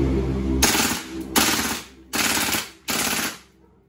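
A WE M4 RIS gas blowback airsoft rifle fires full auto in four loud, close bursts of rapid mechanical clatter separated by short pauses, with no talk.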